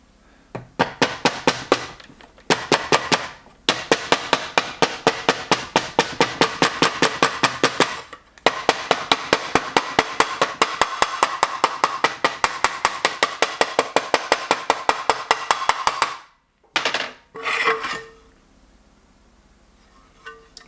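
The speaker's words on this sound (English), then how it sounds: "So we're just gonna tap this one in very lightly." New front main seal tapped into an engine front cover with a hammer, long runs of quick, light, evenly spaced metallic taps with brief pauses between groups, close and clear.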